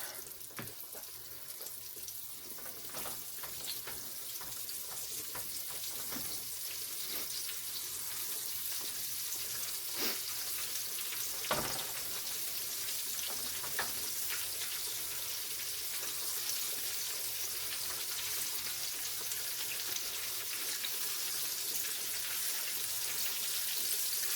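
Flour-coated pork chops fry in hot oil, giving a steady, fairly faint hiss and crackle with scattered pops throughout.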